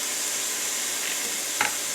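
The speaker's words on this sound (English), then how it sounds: "We've got a nice sizzle going on" A loud, steady sizzle of peppers and onions frying in butter, close up, with a brief scrape near the end.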